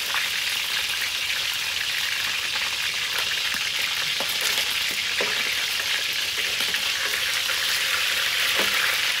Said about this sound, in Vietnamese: Cái chuột với cái ớt mình chiên nó vàng chín rồi cả nhà.